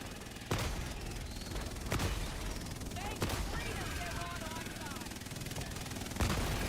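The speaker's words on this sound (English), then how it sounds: "Autocannon." Heavy autocannon fire in the Helldivers 2 video game, a few loud, widely spaced booming shots over a busy battle bed with faint chatter and effects.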